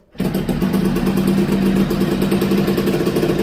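A motorcycle engine starts abruptly and settles into a loud, steady idle with a fast, even mechanical chug and rattle, close by with no voices.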